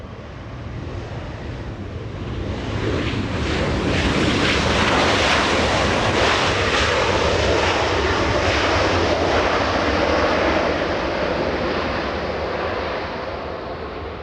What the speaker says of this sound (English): Virgin Atlantic, that's the big one. That's the A350-1000.